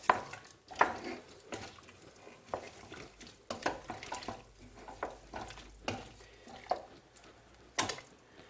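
A spoon stirring lentils into a pot of vegetable soup, giving irregular scraping and knocking strokes against the pot with soft wet sloshing between them, close and moderately loud, with no voices.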